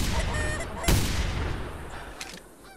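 A single sharp rifle shot in The Hunter hunting game while hunting geese, loud and close, followed by a quieter second report amid honking geese and outdoor ambience.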